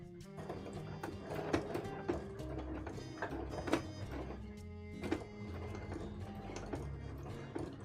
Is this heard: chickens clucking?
no